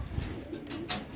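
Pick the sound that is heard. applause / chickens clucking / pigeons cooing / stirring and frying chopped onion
pigeons cooing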